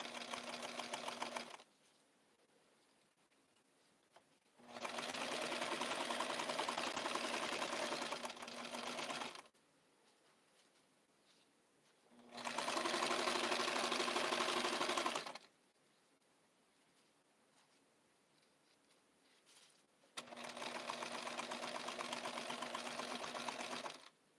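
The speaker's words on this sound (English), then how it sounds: "We're sewing! Actually getting a sleeve made." A sewing machine stitches a blue coat sleeve in three sustained bursts, steady and fairly close, with quiet pauses between runs.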